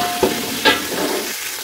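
Garlic paste fries briefly in a hot pan for a pulao, giving a soft continuous sizzle with two quick stirring scrapes near the start, close and short, with no speech.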